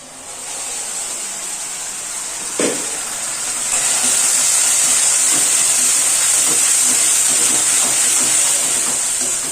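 Tomato juice poured into a hot pan of sautéed ingredients hisses into a loud, steady sizzle after a brief thump, holding a bright continuous crackle to the end.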